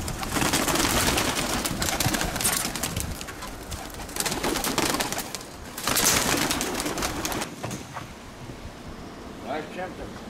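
Armenian fighting pigeons cooing outdoors on a windy day, soft repeated coos heard amid strong gusts of wind buffeting the mic, with people talking nearby.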